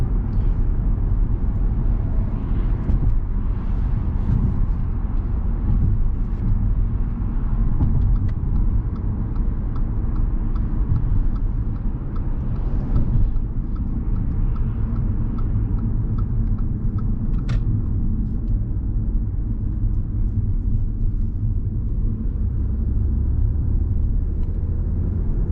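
An Audi A4 B8 with a 3.0 TDI 245 hp diesel engine drives along, giving a loud, continuous low engine rumble and road roar heard from inside the car with no talking.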